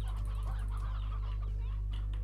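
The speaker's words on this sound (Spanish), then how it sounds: "Vamos a soltar más pollitos aquí." Chicks clucking in the video game Slime Rancher, several soft clucks and calls over a steady low hum, with no talking.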